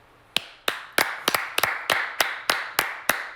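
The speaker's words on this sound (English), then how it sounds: "No, you don't get to clap for them." Slow, deliberate hand claps ring out close to the microphone, about ten sharp, evenly spaced claps, as a group watches a USA versus Brazil basketball game. There is no talking over them.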